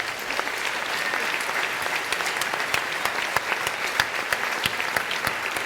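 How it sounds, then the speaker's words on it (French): Audience applause for hospital caregivers at a gala dinner, a sustained wash of clapping with sharp individual claps standing out, loud and continuous throughout. "Vraiment un tonnerre d'applaudissements pour les soignants"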